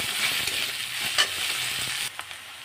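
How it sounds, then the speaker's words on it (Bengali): Onions frying over fairly high heat in a pan, a steady close sizzle with brisk scraping and stirring strokes, the hiss dropping slightly near the end. "পেঁয়াজটা আমি অল্প লাল লাল করে ভেজে নেব"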